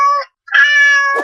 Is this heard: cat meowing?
yes